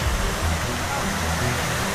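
Cascading waterfalls at the 9/11 memorial pools in New York, a steady, dense rushing roar of falling water that runs unbroken and fairly loud throughout.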